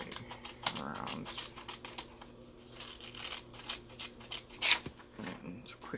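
Quiet, irregular snips and rustles as paper is cut by hand around a decorated trifold, several short crisp bursts spaced unevenly with soft handling noise between them.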